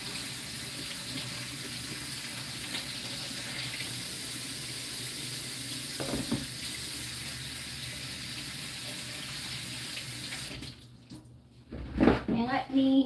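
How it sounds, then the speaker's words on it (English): A kitchen tap runs steadily into a sink while sticky hands are washed, then the flow stops and a voice and a few clatters follow. "Let me wash my hands again because they're very sticky."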